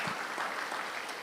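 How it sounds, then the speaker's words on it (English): Audience applause at a grants symposium keynote, a steady patter of clapping from a crowd lasting about a second, fairly faint and without voices. "And applaud."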